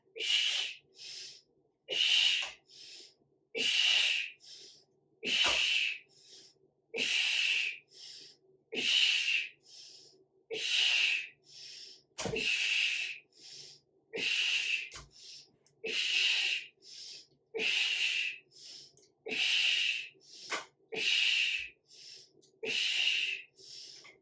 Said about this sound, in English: Use your breath, don't hold your breath.